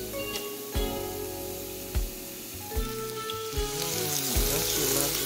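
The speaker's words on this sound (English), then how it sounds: "Don't you love the sound of cooking vegetables that sizzle?" Vegetables sizzle and fry steadily in a hot pan while stuffed bell peppers are being made, a continuous close crackle with a few dull knocks of utensils against the pan.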